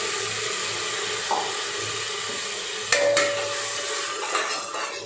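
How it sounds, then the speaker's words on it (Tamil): Tomato paste sautés in oil with a soft, steady sizzle, broken by a few close clinks and scrapes as a utensil stirs it in the pan. "இது கூட மிக்ஸ் பண்ணி தக்காளியும் நல்லா அதோட பச்சை வாசனை போகிற அளவுக்கு வதக்கிடலாம் அந்த ஆயிலில்."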